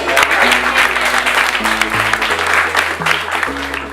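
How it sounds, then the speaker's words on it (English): An event crowd in Kuala Lumpur claps in a round of applause, dense continuous hand clapping over a background music bed with low sustained tones shifting underneath. "Can I get a round of applause?"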